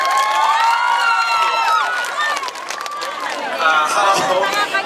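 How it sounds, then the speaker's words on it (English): A crowd at a migrant and women's rights protest rally cheering and shouting for young speakers: loud, high-pitched excited voices and whoops with light scattered clapping, rising and falling in waves. "Please give them a round of applause."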